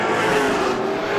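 Race cars roar steadily around Star Speedway during a GSPSS feature, a loud sustained engine drone with a pitched whine running through the full stretch, no voices on top.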